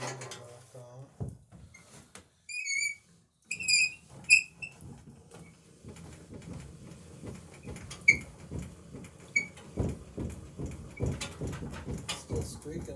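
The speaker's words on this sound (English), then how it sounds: "Still squeaking a little bit." Squeaking crank handle on a Craftsman thickness planer being turned, giving short high chirps in bursts amid clunks and rattling handling noise, with someone talking over parts of it.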